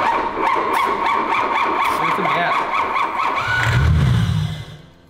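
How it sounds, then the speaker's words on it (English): An abandoned barn-find BMW E32 cranks over on starter fluid without catching, a rhythmic starter whir and chuffing that rises toward the end and then dies away, with voices talking nearby. "cranks over a little bit with some starter fluid"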